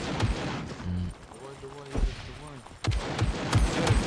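Gunfire in the online survival shooter SCUM on a PvP server: scattered sharp shots and short bursts crack at irregular intervals while players talk over voice chat throughout.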